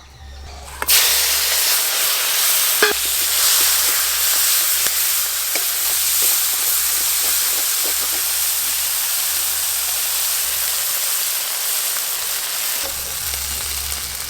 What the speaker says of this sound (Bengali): এবার চিংড়ি মাছ ভাজবো।